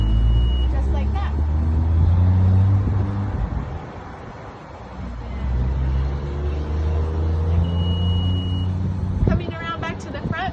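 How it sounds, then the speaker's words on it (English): A Honda power tailgate opening hands-free with a foot motion, a short high beep followed by a low motor hum as the gate lifts and another beep later, while someone talks over it. "open the tailgate with your foot, just like that."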